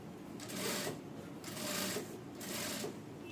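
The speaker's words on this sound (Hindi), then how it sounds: "आपको आराम से इसे पकड़ना है और राउंड राउंड में यहाँ पे सिलाई लगानी है" A sewing machine stitches round seams joining padded blouse cups, running in three short bursts of steady whirring separated by brief pauses.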